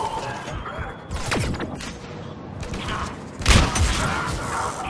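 A grenade blast in the shooter game Mass Effect 3, with a heavy boom near the middle among gunfire and crashing game effects, loud and close.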